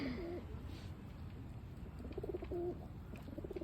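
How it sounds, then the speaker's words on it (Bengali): Pigeons cooing in a park, soft repeated coos in two short bursts over a steady low background hum, fairly close. "এই পার্কে অনেক কবুতর আছে।"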